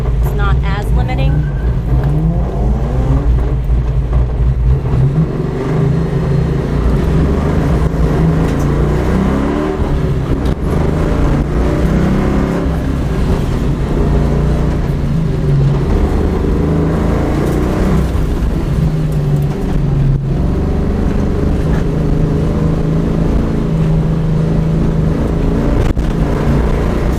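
An SN95 Ford Mustang launches using RaceTCS launch control, the engine droning loud and close as it revs and pulls hard through the run, with people talking over it inside the car.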